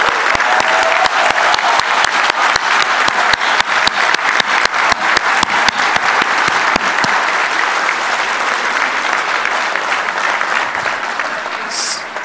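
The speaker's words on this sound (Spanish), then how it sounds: "Y un fuerte aplauso a todos ustedes." Loud, dense applause from a crowd at the inauguration of a coffee factory in Veracruz, Mexico, sustained steadily for about twelve seconds with no voices over it.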